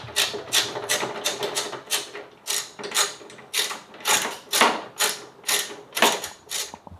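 A ratchet turning the tail light bolt on a 3rd-gen Toyota Tacoma, rapid close clicking in regular bursts, loud and mechanical with no talk.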